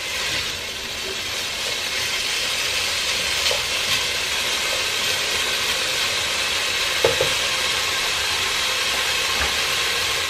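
Bacon fries in a pan for caldo verde soup, a steady, even sizzle that holds close and continuous, with only an occasional faint tap.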